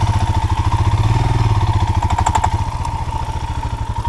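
A motorcycle engine revs hard as it struggles through rain-soaked mud on a road in the Bolivian Amazon, loud and close, with a rapid pulsing throb and some mechanical clatter.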